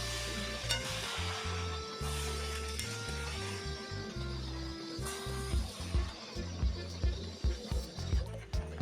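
Puffed rice sushila stir-fried over a high gas flame, with a steady close sizzle under repeated scraping and tossing strokes that grow more uneven and percussive toward the end.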